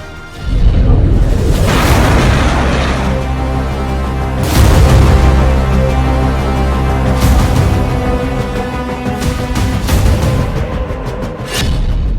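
A multi-barrel rocket launcher firing a salvo of rockets, loud roaring blasts and rushing whooshes one after another, each sustained launch rumble overlapping the next, near and powerful.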